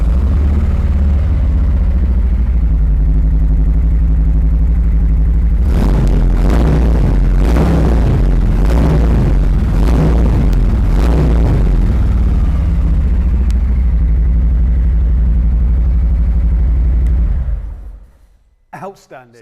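A Harley-Davidson Road King Special motorcycle engine rumbles loudly at idle, then barks through several quick throttle blips before settling back and cutting off.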